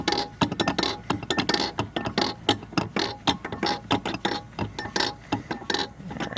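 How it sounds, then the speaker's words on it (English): A loose bearing rattles and clicks inside an OMC Cobra gimbal housing, a rapid irregular series of sharp metallic ticks heard close up with no talk. "You hear that rattling sound? That means it's kind of bouncing around in there."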